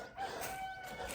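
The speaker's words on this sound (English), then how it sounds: "rock-a-doodle-doo, that's the rooster saying" A rooster crows once, loud and close, with a sustained tonal call running through the short clip and a faint barnyard hiss behind it.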